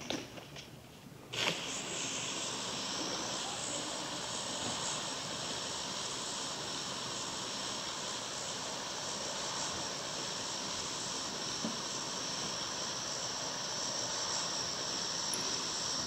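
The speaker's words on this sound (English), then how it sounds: "Let's see when to jump off the plane." A steady, droning airplane engine drones on in the battle-royale game PUBG on the Erangel map, a constant close roar that holds evenly throughout after a brief quieter start.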